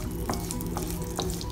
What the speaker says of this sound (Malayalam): ഈ അരി അരഞ്ഞു വരുന്ന സമയത്ത് നമുക്ക് അണ്ടിപ്പരിപ്പും മുന്തിരിയും നെയ്യിൽ വറുത്തെടുക്കാം